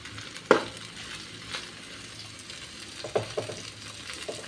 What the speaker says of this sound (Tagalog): Igigisa natin siya.